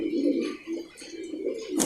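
Pigeons kept by a fancier coo in low, throaty rolling calls, repeated closely and heard up close.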